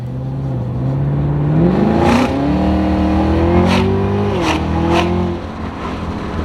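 A 650 hp 2022 Camaro ZL1 engine revs up hard and loud, pitch climbing through several gear changes in close succession, with a steady roar between shifts.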